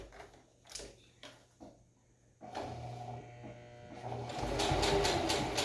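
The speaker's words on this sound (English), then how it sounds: "And then just sew along" A sewing machine stitches along the edge of a homemade fabric mask, its motor starting partway through and then running as a steady, close, whirring hum that builds slightly toward the end.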